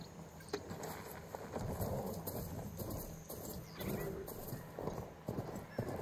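Rapid rhythmic hoofbeats come from a machine mount ridden in Horizon Forbidden West, a steady galloping clatter close by, with an occasional whinny-like cry above it.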